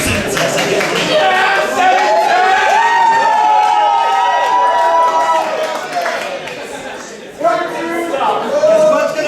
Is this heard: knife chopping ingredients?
no